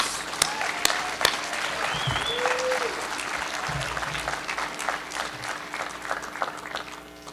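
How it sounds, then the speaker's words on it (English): An audience applauds at a premiere as a performer is introduced, steady clapping from a crowd with a few sharp nearby claps and faint murmuring underneath. "let's hear a round of applause for Liberty James"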